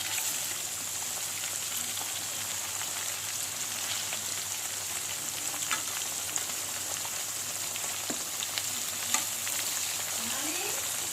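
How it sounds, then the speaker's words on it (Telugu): Fish pieces frying in oil, a dense continuous crackling sizzle held at an even level, with occasional faint clinks and pops and no talking. "మంచి ఫిష్ ముక్కలు వేగనివ్వండి"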